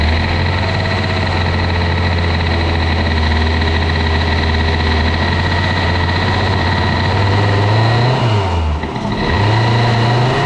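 A small engine on an Airsal 70cc cylinder kit moped, warmed up, idles steadily and close, with a low constant hum that briefly revs up and drops back before settling again.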